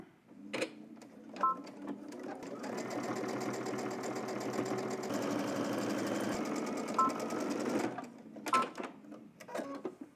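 A sewing machine stitches the fly of baggy jeans in a fast, steady mechanical whir lasting several seconds, framed by short handling clicks and knocks before and after, close and fairly quiet.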